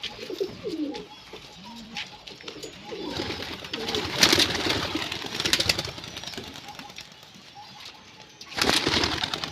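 Pigeons coo softly close by, then wings flap in bursts as the flock is released and flies off, with an engine idling and people talking in the background.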